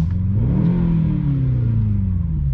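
An 843 hp Mercedes-AMG GT63S E-Performance in Sport Plus mode revs loudly and up close, its engine note rising and then holding in one steady surge with no talking.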